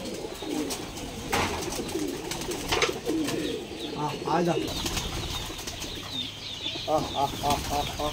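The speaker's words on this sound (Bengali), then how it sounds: "অনেকগুলো কবুতর এখানে আছে" Giribaj pigeons perched on a farm's tin roof give repeated throaty coos in short bursts, mixed with wing flutters and nearby people talking.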